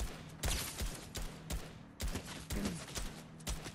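Sniper rifle shots from Fortnite, the Mandalorian sniper, firing in a regular series of sharp cracks with short tails, about a shot every half second, loud and alone with no talk.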